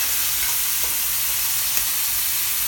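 Jackfruit with spices cooking in a large saucepan, a steady soft sizzle with faint stirring, continuous and close.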